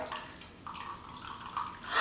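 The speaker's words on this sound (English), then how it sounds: "you gotta pour the liquid over the spoon" Liquid poured over a spoon, a soft, continuous trickling and splashing that swells toward the end, close and fairly quiet.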